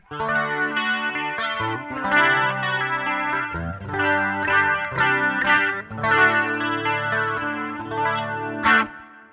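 A Latitude GoldTop Les Paul electric guitar strummed through a chorus effect, rhythmic chords ringing with a shimmering, slightly distorted tone, several strums in a row, up close and alone with no talking.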